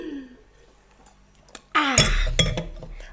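Glasses clink together in a toast, a sharp bright clatter with a couple of quick follow-up clinks, near and fairly loud after a quiet moment with faint throat noise.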